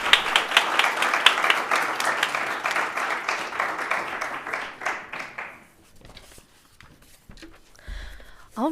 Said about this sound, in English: Let's get one more round of applause for our amazing finalists and their impactful stories.